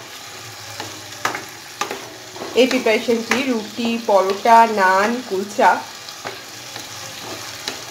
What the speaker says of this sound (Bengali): এইবার মেটের সাথে ডালটা একটু ভাজা ভাজা করে নেব।